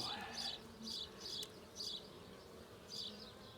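Honeybees buzz in bursts during an eight-week inspection of a package hive, several close passes rising and fading in an irregular rhythm over a soft background hiss.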